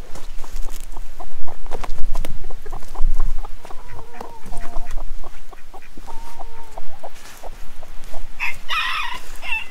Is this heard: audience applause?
no